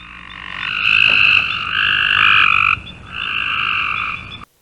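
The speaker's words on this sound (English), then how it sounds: "And here's the Cope's gray tree frog." A Cope's gray tree frog calls loud and close with fast, buzzy trills: a long, steady buzz, a brief drop, then another trill that cuts off sharply, with no other sounds.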